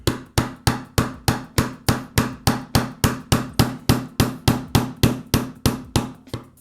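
A metal awl is tapped with a hammer to spread the prongs of a zipper stop, giving a steady run of about twenty sharp, evenly spaced knocks, close and loud, with no talking.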